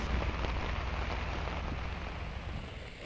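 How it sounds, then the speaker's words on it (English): Steady rain falls and patters densely on surfaces, close and fairly loud, as a continuous wash with no talking. "listening to the rain fall"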